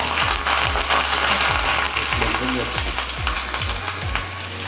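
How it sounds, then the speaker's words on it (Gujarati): Tempering of mustard seeds, white sesame and green chillies in hot oil in a pot, a loud, dense continuous sizzle and crackle heard up close with a repeating low mechanical tick underneath. "હવે તેની ઉપર આપણે વઘાર કરી લઈએ"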